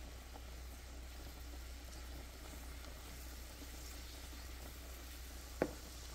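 Garlic fries in heating oil for shrimp scampi, making a faint, continuous sizzle with a low background hum and one sharp clink just before the end.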